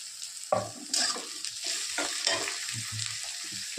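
Onion sizzles and crackles in a pan with stirring as tomato is added, bringing sharp bursts of sizzle near the start and then a busy, close frying hiss.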